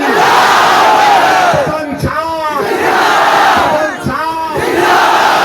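Large crowd chanting political slogans in unison at an open-air rally, loud, dense roaring voices in rhythmic call-and-response waves, two swelling chant phrases with brief dips between.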